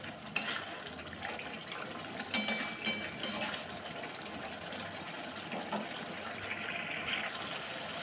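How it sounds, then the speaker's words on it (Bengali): Water poured into a pan of egg curry made with duck eggs, a steady gushing, splashing flow that runs evenly with a few louder bumps partway through. "একটু জল অ্যাড করে রান্নাটা হতে দেবো কিছুক্ষণ"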